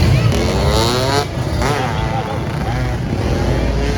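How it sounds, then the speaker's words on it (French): Motorcycles rev at a gathering in Medellín, engines rising and falling in loud, close bursts over a rumbling idle, with voices faintly mixed into the noise. "Et on se retrouve Un rassemblement de motos."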